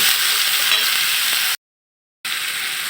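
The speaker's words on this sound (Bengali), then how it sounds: "পেঁয়াজ ভাজা হয়ে গেছে। এবার আমি গুলে রাখা হলুদ ও মরিচের মিশ্রণটা দিয়ে দেব।" Turmeric and chili paste hitting fried onions in hot oil gives a bright, steady sizzle for about a second and a half, a brief silent gap, then the sizzling resumes at the same level.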